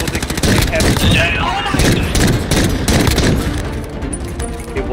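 Loud, rapid video game gunfire rattles almost nonstop in dense automatic bursts, close and harsh, easing slightly toward the end.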